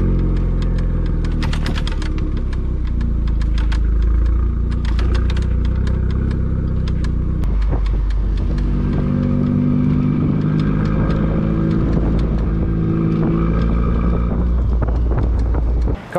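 A car carrying two e-bikes on a Kuat Piston Pro X hitch bike rack drives around a parking lot, with a steady low engine rumble and wind noise throughout, plus scattered light rattles.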